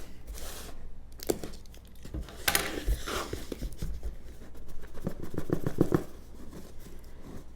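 Plain brown cardboard box being cut open, with scratchy tearing and slicing bursts, crinkling packaging and a few knocks, close and moderately loud throughout.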